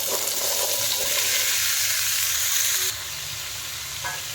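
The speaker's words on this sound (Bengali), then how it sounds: "দিয়ে দেবো কেটে রাখা আলু।" Cut potatoes drop into hot mustard oil seasoned with nigella seeds and dried red chilies, giving a loud, dense sizzle and hiss that drops to a steadier, quieter fry partway through.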